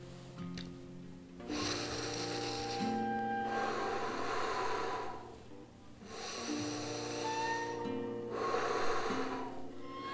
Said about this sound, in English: It's just the sound of the breath coming in through the O mouth.